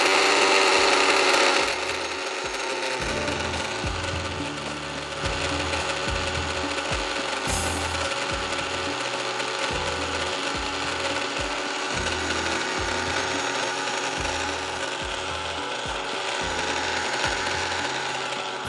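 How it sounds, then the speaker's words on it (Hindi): An electric mixer grinder blends the masala mixture for a tawa chicken tikka gravy. Its motor whirs loudly and closely in repeated short bursts broken by brief pauses, with no talking. "तो आप आसान तरीका है कि आप मिक्सी के अंदर कर लें उसको"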